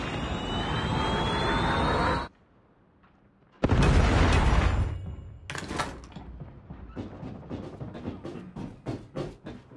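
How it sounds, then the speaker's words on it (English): A Call of Duty Mobile predator missile streaks in with a loud roaring rush, cuts off abruptly, then slams down in a deep booming impact followed by a train of rattling gunfire bursts. "Friendly predator missile inbound."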